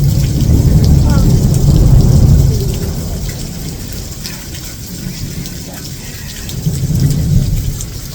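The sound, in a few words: thunderstorm with rain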